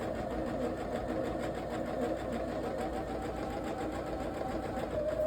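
A sewing machine runs steadily along a quarter-inch quilt seam, a continuous motor hum with fast rhythmic needle chatter, moderately close and uninterrupted, no voices.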